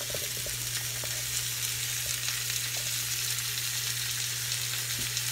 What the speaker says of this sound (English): Get it sizzling there.